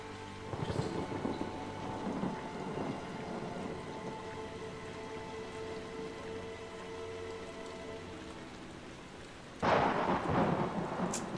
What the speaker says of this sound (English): That lightning, bro, that was not alright.